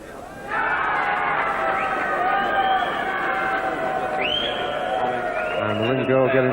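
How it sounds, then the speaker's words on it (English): A boxing arena crowd cheers and chatters in a thick, steady hubbub, with whistles rising over the noise near the end. "And the ring girl getting the best round of applause of the night."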